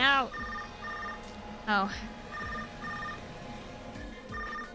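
A phone message alert in the video game Tokyo Mirage Sessions plays as a repeating chiming ringtone. The rings sound in short bursts and run through the whole stretch, with a brief spoken exclamation near the start.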